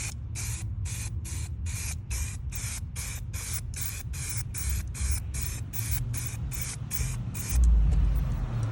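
Spray paint misted in a rapid series of short bursts, about twenty evenly spaced hissing puffs, close and steady, with a low background hum underneath.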